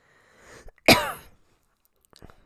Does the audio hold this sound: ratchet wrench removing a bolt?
no